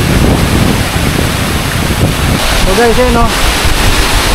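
Strong wind at a popular waterfall in Laguna, a loud, unbroken roar buffeting the microphone and blending with rushing water, while a person speaks briefly over it.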